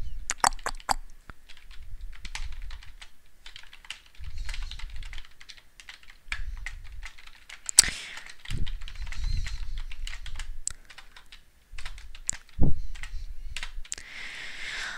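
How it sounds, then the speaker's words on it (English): Fingers type on a computer keyboard in bursts of close, crisp key clicks with short pauses, plus a few louder taps. "I type something appropriate depending on the picture I use"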